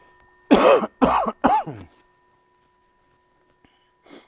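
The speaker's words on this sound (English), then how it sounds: "Dry cough, it's okay." Three short, dry coughs in quick succession, close and fairly loud, followed by silence and a faint brief sniff near the end.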